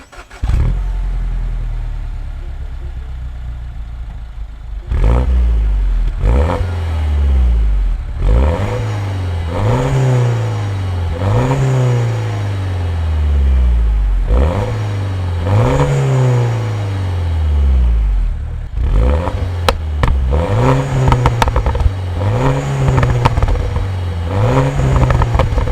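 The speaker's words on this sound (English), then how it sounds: "let me show you how this car sounds" A 2012 Mini Cooper S R56 with the N18 engine idles, then its engine and exhaust pull through a long series of rising revs and gear changes, each climb loud and close, repeating steadily as the car drives.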